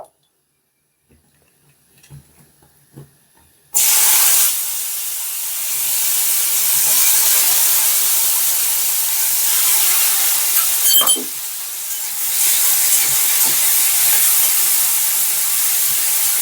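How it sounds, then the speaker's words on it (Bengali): Sattu (gram flour) hits hot mustard oil in a wok and breaks into a loud, continuous frying sizzle that rushes in suddenly after near silence, dips briefly once, then carries on. "ফার্স্টে আমাদেরকে ছাতুটা ভেজে নিতে হবে"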